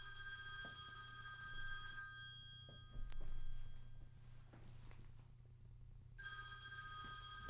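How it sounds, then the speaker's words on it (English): A mobile phone rings after being called, having fallen onto the floor: a steady electronic ringtone with repeating tonal bursts, moderately loud, over a low background hum with small knocks and movement in the room. "I can't find my phone. Yeah, call it. Somebody call it."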